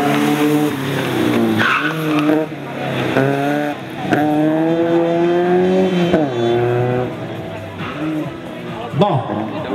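Škoda Felicia rally car without ABS at a hillclimb rally, tires squealing and skidding in long repeated wails over a loud engine, close and sustained throughout.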